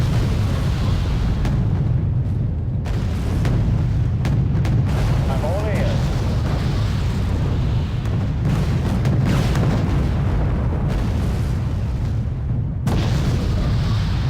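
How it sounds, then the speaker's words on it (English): Artillery fire in the real-time strategy game Wargame: Red Dragon, a steady barrage of low, rumbling booms rolling continuously through the battlefield ambience, dense and loud throughout. "Where's that artillery coming from?"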